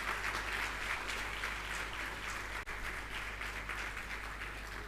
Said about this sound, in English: So big round of applause for all of you.